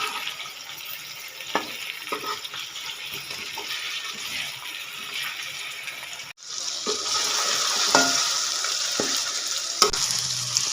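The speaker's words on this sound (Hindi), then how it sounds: "कलर चेंज होने तक इसको भूनेंगे।" Chicken karahi roasting in a wok, Punjabi style, with steady sizzle and frying hiss throughout, broken by scattered scrapes and clatters of a stirring utensil; the sizzle grows louder after a brief pause midway.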